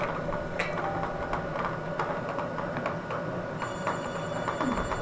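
A telephone rings with an incoming call during a televised bingo show, a steady electronic trill running throughout at moderate level over background hum.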